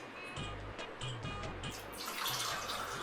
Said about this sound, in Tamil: இப்போ 5 டம்ளர் தண்ணி வந்து இதில் ஊற்ற போகிறேன்